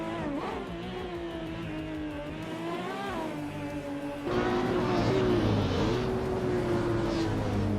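Race car engines in a racing video game, including a 2010 Spania GT Spano supercar, droning and shifting pitch as they rev, loud and continuous with a sudden louder surge midway.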